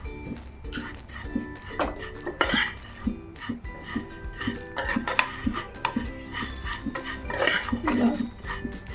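Vermicelli (semiya) fries in ghee in a pan for kesari while a metal spoon stirs it, giving close, repeated scraping and clinking against the pan over a faint, low sizzle.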